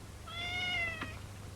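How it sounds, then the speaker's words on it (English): A single cat meow, fairly close and clear, drawn out for about a second over a steady low background hum. "A cat?"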